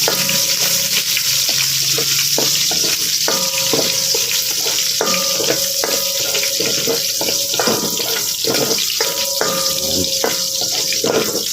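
Chopped onions frying in a pan after garlic for chopsuey, a steady loud sizzle running throughout with repeated scraping and clinking of a spatula stirring against the pan, close up.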